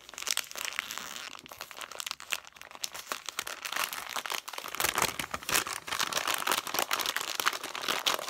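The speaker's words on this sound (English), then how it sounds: "A little bit more rustling." Wrapping on a yarn advent calendar package crinkles and crunches steadily while being torn open, close and continuous with sharp bursts throughout, no voices.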